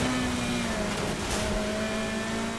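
A car engine with a maxed-out exhaust in the racing game Need for Speed Heat drones steadily and loudly throughout, a continuous smooth engine hum with no pauses.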